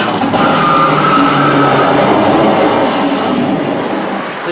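Hydraulic launch roller coaster train accelerating from 0 to 120 miles per hour, driven by 32 hydraulic motors: a loud, continuous rushing roar with a rumbling, rattling body that holds steady for several seconds before easing slightly.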